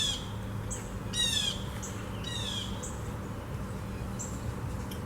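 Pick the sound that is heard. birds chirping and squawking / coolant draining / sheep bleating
birds chirping and squawking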